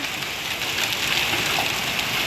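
Hailstones fall on a tiled roof as a dense, even hiss of countless small impacts, loud and continuous throughout with no voices.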